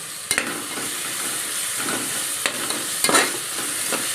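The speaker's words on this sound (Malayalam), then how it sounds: "സവോളയും 2 പച്ചമുളകും എല്ലാം കൂടെ ഇതിനകത്തോട്ട് ഇഞ്ചിയും വെളുത്തുള്ളിയും കൂടെ ചതച്ചും എല്ലാം കൂടെ ഇട്ടാണ് വഴറ്റുന്നത്." Onions, green chilies, crushed ginger and garlic sauté in a pan for a beef curry. A steady sizzle runs underneath a few scraping stirs of the spatula, with no voices.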